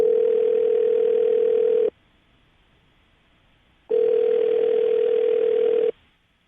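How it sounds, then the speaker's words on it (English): A telephone call rings out on the line as a steady electronic tone that sounds for about two seconds, goes silent for two seconds, then repeats once, loud and clear with no voices. "I'm going to dial his phone number right now, get him on the phone"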